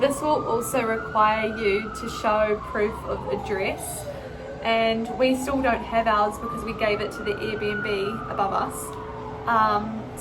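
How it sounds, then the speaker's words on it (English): Passing emergency vehicle sirens wail, rising and falling repeatedly in the background outside while a person keeps talking over them. "excuse the sirens"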